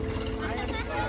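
A tractor-driven bladed threshing machine works through pearl millet, giving a steady loud mechanical drone and hum that runs without pause across the clip, close by, with voices talking over it.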